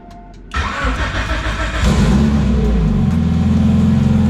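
A car engine cranks after a short quiet moment, then catches and settles into a loud, steady idle close by, following dyno tuning.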